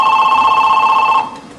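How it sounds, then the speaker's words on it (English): A telephone rings through an internet call placed over the Free World Dial-Up service, a steady electronic tone held for about a second and a quarter before cutting off, loud and close with no talking. "Free World Dial-Up has instructed my phone to tell this one to ring"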